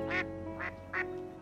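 Three distinct quacks from a little duck in a French children's cartoon ring out over soft background music.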